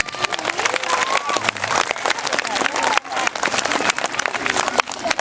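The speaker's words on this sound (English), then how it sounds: "give him a round of applause for that" An audience applauds and cheers after a bicycle stunt display, with dense clapping running throughout. An announcer talks over the crowd.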